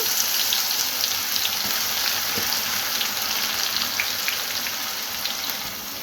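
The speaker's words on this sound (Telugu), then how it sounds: "ఆయిల్ వేడయిందండి వేడయ్యాక మనం మిక్సీ పట్టుకుని మసాలా అలాగే వేసుకోవాలి" Steady, loud sizzling of ground spice paste frying in hot oil, a continuous hiss with occasional crackles and pops.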